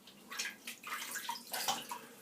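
Water is poured into an Old Spice Friendship shaving mug at a sink during a wet shave, making short, close splashing bursts with no talk.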